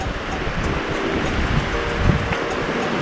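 Surf breaking along the shore at Al Shuqaiq, Jizan, Saudi Arabia, with the tide rising, rolls as a steady broadband wash under gusty wind noise, with a slightly stronger surge near the end.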